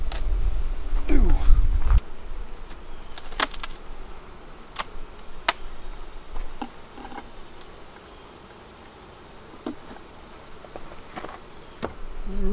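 Honey bees buzz softly and continuously inside an opened beehive, with scattered sharp clicks and knocks from handling the hive frames.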